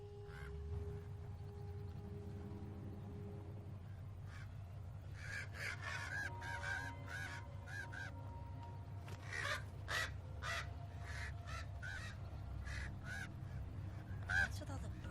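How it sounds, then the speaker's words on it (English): Crows cawing and geese honking in a noisy flock near a church, repeated calls in irregular bursts that grow denser and louder over a steady low outdoor hum. "What's with all the birds?"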